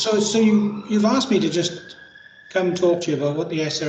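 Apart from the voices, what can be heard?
No everyday noises stand out.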